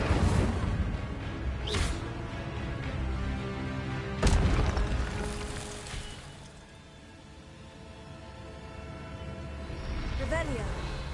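Incendio fire spell cast in the Hogwarts Mystery video game, sharp whooshing bursts and booming impacts over game music, with a voice speaking between the casts.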